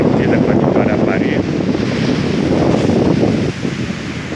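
Steady wind roars against the microphone along with surf washing onto a beach on a breezy seafront promenade in Vila Velha, Espírito Santo, a loud unbroken rush that dips slightly near the end.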